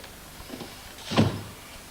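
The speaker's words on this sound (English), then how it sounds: "Go on, shut the door." A door in a 1978 British drama interior is shut once, giving a single muffled thump with a short rattle in a quiet room with no talk.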